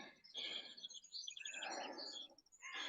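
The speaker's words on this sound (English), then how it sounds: "Hear the crows crowing away there." Crows call faintly in the distance along a gradual woodland climb, a few harsh bursts spread over a couple of seconds against quiet surroundings.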